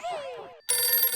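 A telephone rings in short electronic bursts, a warbling tone followed by a brighter, buzzier ring, close and fairly loud.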